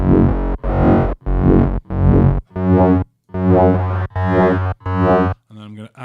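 Drum and bass synth patch with an added extra wave and phase distortion: eight loud sustained tones with a gritty, buzzing timbre, each about half a second long, separated by short gaps, the last one fainter and noisier.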